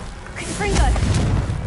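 A Confringo fire spell bursting in Hogwarts Legacy, a rumbling low boom with crackling magical whooshes, loud and close, while a voice speaks over it.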